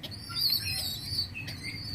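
Pigeons at a pigeon farm in Gazipur flap their wings in a soft, fluttering burst close by, with faint chirps and a low background rumble and no talking.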